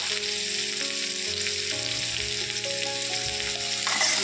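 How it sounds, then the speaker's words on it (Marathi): Chopped onion sautés with green chillies in a pan for a veg pulao, a loud, steady sizzle with light stirring while background music plays throughout. "कांदा एक मिनटावर गुलाबी रंगावर परतून घ्यायचा"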